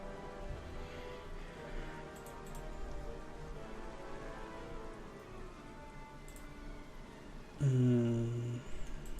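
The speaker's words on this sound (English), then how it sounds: "Rain does make things a little bit more complicated." Soft steady rain hisses in the background of the World War II strategy game Strategic Mind: Blitzkrieg, during a Dunkirk mission, with a brief louder low tonal burst near the end.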